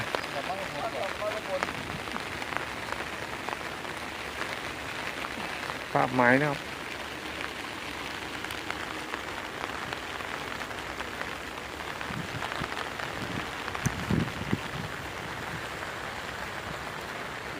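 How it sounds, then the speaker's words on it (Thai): Steady rain patters on a surface throughout while fishing, with someone talking over it in Thai and a brief splash or knock partway through. "ฝนตกครับผม"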